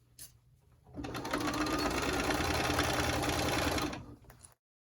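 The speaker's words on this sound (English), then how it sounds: "stitch at a 5/8 inch seam allowance all the way around, back stitching at the beginning and the end" A sewing machine stitches the armhole seam of a shirt-style top from Simplicity Pattern 9274 at a 5/8 inch seam allowance, running in one steady, close, whirring burst for about three seconds before stopping abruptly.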